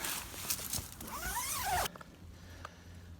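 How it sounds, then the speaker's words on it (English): A zipper is drawn along the vestibule of a Big Agnes Copper Spur UL2 tent outdoors, with one quick close rasping pull followed by quiet. "And this just zips up if you want it to."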